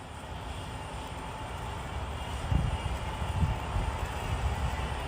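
A self-driving mower runs at medium speed, making a steady low engine drone and rumble that swells slightly midway, heard alone without talk.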